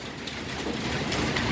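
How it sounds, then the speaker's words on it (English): Hail falling outdoors in Little Elm, a dense steady clatter of stones striking surfaces, close and continuous throughout without any talk. "Ooh, look at all that hail down there."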